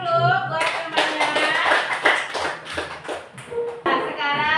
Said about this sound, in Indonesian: Kasih tepuk tangan dulu buat temannya